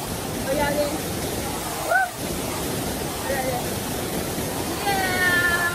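The Aburi waterfall in Ghana roars as a constant broad rush of falling water, close and steady throughout, with voices calling out faintly now and then over it.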